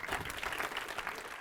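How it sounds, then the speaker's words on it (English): A seated audience gives a short burst of applause to welcome a guest, a quiet but dense patter of many hands clapping together without any speech. "Give him a big round of applause."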